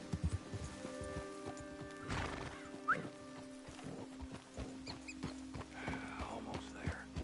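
A horse in the Red Dead Redemption 2 video game neighs and whinnies amid soft hoof clip-clops, fairly quiet over a steady low background hum with scattered short knocks.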